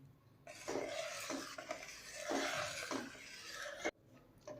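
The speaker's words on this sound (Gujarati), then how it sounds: "તો લચ્છાને રબડીમાં સારી રીતના મિક્સ કરી દઈએ." A spoon stirs long lachha strands through thick rabdi in a pot, making soft repeated scraping and swishing strokes, close and quiet, ending with a sharp clink.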